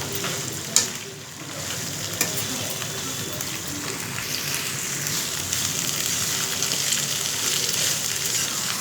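Shredded cabbage sautéing in a little oil, a steady close sizzle with the rustle and scrape of stirring across the pan and a couple of sharper knocks early on.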